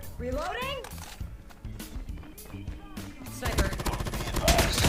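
Bursts of automatic gunfire from the mobile shooter Call of Duty Mobile, with a voice talking over the early rattle and the shooting getting denser and louder toward the end.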